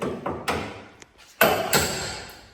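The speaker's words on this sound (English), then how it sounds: "take your hammer and chisel." Several sharp metallic taps and knocks from a hammer and chisel on a Nissan S14's metal body, at uneven intervals, close by, with a couple of heavier strikes standing out.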